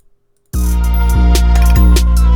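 Loud, sustained 808 bass from a music production session, left unprocessed with no clipper, starting abruptly after half a second of silence and holding a deep booming tone with a few subtle retriggers, alone with no talk.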